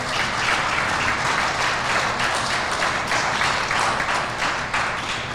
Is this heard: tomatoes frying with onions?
no